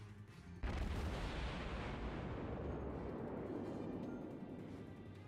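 A Kongo battleship in a naval video game lets off a heavy gun salvo: one sudden deep boom that rolls into a long, loud rumbling roar and slowly fades.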